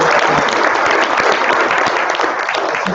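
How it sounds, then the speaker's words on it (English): A room full of people at an evening data meetup applauds loudly and continuously for the event's sponsor, a dense, close wash of clapping with no speech over it. "a big round of applause"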